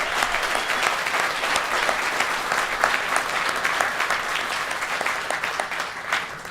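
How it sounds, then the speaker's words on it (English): A crowd at the opening ceremony for TriMet's Better Red transit line claps steadily, a full, even round of applause that carries on loudly without pause. "And I think they deserve a round of applause for that"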